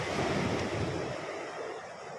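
Ocean waves wash steadily onto a beach shore, a loud, continuous roar of surf with wind rushing across the microphone and no voices.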